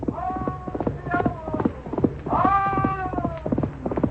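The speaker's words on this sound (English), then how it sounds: "his great black stallion fled over the prairie" Audio drama horse sound effect for a great black stallion fleeing over the prairie: rhythmic hoofbeat clip-clops under a voice with long tonal calls over them, close and moderately loud.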